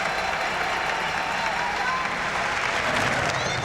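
A crowd cheers and applauds steadily at the 1996 track cycling world championships, a dense roar that builds as a rider attacks on the velodrome, with a commentator's voice running over it.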